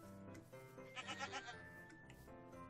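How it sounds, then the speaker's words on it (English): A goat bleats in the Minecraft video game, a few faint wavering calls over quiet game background sound, with no talking. "I hear a goat, but I don't see a goat."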